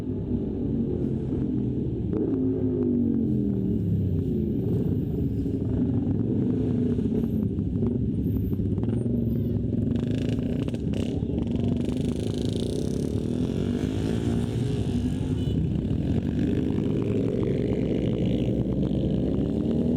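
A big bike motorcycle engine revs with heavy, sustained low rumble that swells and falls over twenty seconds, loud and close, with wind buffeting on the microphone and no speech.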